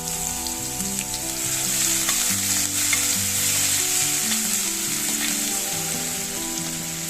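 Ginger and green chili paste sizzling in hot oil with a loud, even hiss and occasional stirring, over steady background music.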